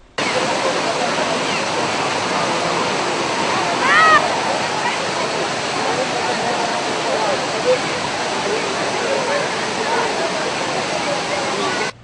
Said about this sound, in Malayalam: മഴയേറിയതോടെ ജലസമൃദ്ധമായി കുംഭാവുരുട്ടി വെള്ളച്ചാട്ടം